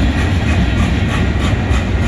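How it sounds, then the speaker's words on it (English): A Canadian Pacific freight train accelerates loudly and close by, a dense, heavy roar of wheels and engine that runs continuously without a break. "the train is accelerating"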